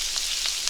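Butter sizzles in a hot pan as the sauce for Chilean sea bass gets started: a brief, steady, bright hiss, close and fairly loud, with no talking.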